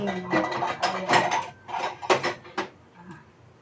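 A metal ladle is picked up and clatters repeatedly against a hot frying pan, several sharp bright clanks in an irregular burst close by, with a quieter clink near the end.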